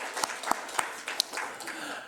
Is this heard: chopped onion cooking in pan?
no